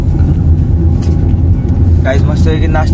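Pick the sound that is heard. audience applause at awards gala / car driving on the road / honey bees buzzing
car driving on the road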